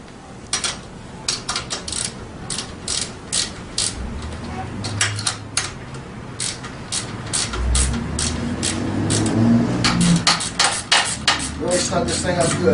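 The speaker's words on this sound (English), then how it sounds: "Put your nut on the other end and tighten it down good." A nut is tightened with a hand tool during assembly of a Tao Tao 90 dirt bike, giving a fast, steady run of metallic ratcheting clicks close to the microphone that grows denser and louder toward the end.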